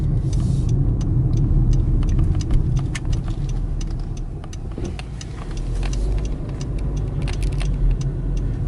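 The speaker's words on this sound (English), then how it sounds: "And then we'll drive down the street here. Hang a right on McNabb." A car drives along a residential street in the Los Altos area of Long Beach, California, its steady engine and road rumble continuous and close throughout, with faint rattles inside the cabin and no talking.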